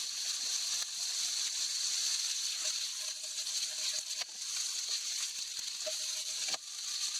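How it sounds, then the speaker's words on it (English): Steady hissing sizzle of wagyu beef searing in a hot frying pan, with occasional clinks and scrapes of stirring, continuous and fairly close. "Once the frying pan is hot, add the meat and stir fry."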